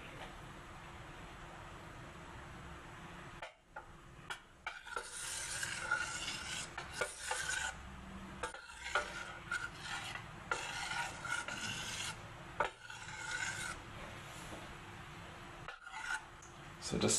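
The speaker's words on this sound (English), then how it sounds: "So just stir it until it's completely dissolved." Butter or margarine being stirred into a Portuguese tart mixture until it dissolves, with close, gritty scraping and rubbing of a utensil in a bowl in irregular strokes and brief pauses.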